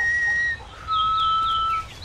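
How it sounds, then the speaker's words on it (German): A game character in the horror game DreadOut whistles two clear sustained tones, the first short and the second longer and slightly lower, over a quiet background. "Jetzt pfeift sie hobbylos durch die Gegend."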